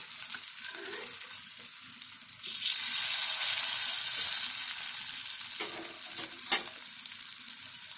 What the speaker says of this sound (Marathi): आता मी फास्ट करते आणि चांगले गोल्डन फ्राय करून घेते